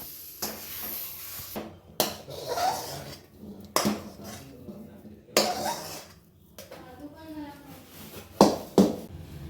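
Cooked semolina sheera scraped with a utensil from the pan onto oiled plates: scattered clinks and scrapes of metal on metal, a few sharp knocks near the end, with soft talk between the sounds.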